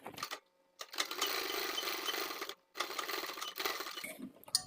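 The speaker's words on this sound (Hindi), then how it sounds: "और खींच के सिलाई सेट कर दें।" Sewing machine stitching a sleeveless strap blouse, running in two steady whirring bursts separated by short pauses, close and clear with no speech.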